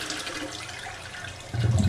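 A clogged toilet is flushed and water keeps rising in the bowl instead of draining, a steady rushing and gurgling wash that swells louder near the end, close up with no talking.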